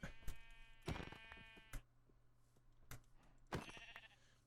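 Sheep in the Minecraft video game let out a few short, bright bleats, two close together near the start and another a few seconds later, each loud and near with quiet gaps between.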